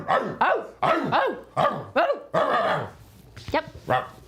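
People imitate dog barks, a rapid series of about eight yelping woofs followed by a few quieter ones, close and loud.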